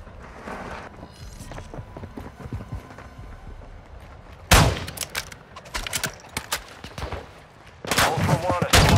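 Shotgun blasts in the Call of Duty DMZ shooter: a few sharp, loud broadband bangs, one near the middle and a burst near the end, over a busy game background with footsteps and scattered noise.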